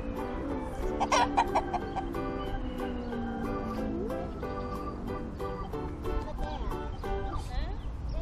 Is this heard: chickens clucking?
yes